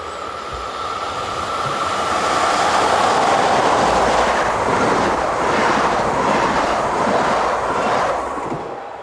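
British Rail Class 73 electro-diesel locomotive 16748 running west on rails, a steady loud rumble with rhythmic wheel clatter sustained throughout, swelling slightly in the middle as it passes.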